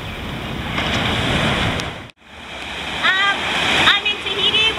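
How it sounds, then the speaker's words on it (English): Surf washing onto a black sand beach outside a hotel in Papeete, Tahiti, a steady broad roar with wind buffeting the microphone, one brief dropout midway, and faint chirps later on. "another beautiful black sand beach in Papeete, Tahiti, outside the Radisson Hotel"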